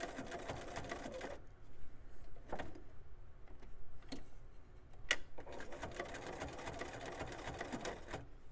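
Sewing machine stitching applique fabric runs in steady bursts with pauses between them, a soft mechanical whir with a few sharp clicks, close and quiet with no voices.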